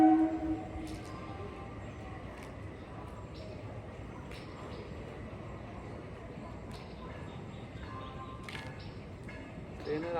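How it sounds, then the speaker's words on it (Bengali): A train runs along a railway line right beside an office building, a low steady rumble with clattering ticks heard from a rooftop, fairly faint and continuous. "ট্রেনের আওয়াজ শুনতে পাচ্ছ?"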